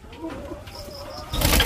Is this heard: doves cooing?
yes